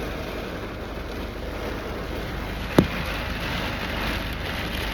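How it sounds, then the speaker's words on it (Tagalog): Constant heavy rain roars with a windy rush beneath it during flash-flood weather in Dubai, broken by one sharp knock near the middle; no one speaks. "grabe talaga yung ulan ngayon. Pati yung ano, hangin talaga."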